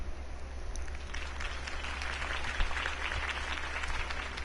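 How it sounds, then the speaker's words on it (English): Video game crowd applauding steadily, a dense wash of clapping at moderate distance with a low hum underneath, no speech. "could have heard that applause"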